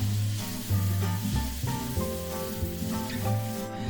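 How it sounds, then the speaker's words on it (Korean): Home vegetables stir-fried with oyster sauce in a pan, a steady sizzle under a soft tonal background with occasional louder stirring bursts and no voices. "간은 굴소스로 가볍게 해준 다음 맛이 벨 때까지 충분히 볶아주세요"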